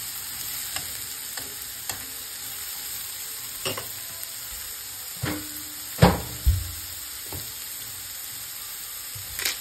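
A steak fries in a pan, a heavily seared cut giving a constant crackling sizzle, broken by scattered clinks and scrapes from utensils and a few louder knocks near the middle and end, with no talking.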